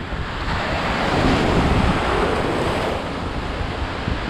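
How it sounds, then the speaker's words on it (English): Atlantic Ocean surf breaking steadily onto Daytona Beach, Florida, a continuous close wash of waves roaring over wind buffeting the microphone, with no talk. "Look at that, a lot of waves on this way."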